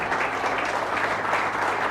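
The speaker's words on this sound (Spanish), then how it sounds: "¿Quién da un aplauso fuerte al Señor en esta hora?" Dense, enthusiastic applause from a church congregation during a sermon, steady clapping filling the whole moment without a break.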